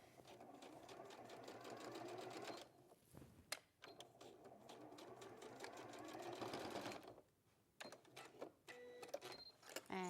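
A sewing machine running stay stitching along fabric, a rapid mechanical stitching whirr in two long bursts with brief pauses and small clicks between, close and clear.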